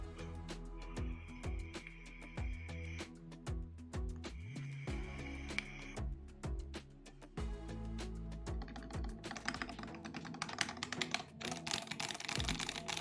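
Steady typing on a finished custom mechanical keyboard, crisp close keystrokes in a dense rapid rhythm with no talk.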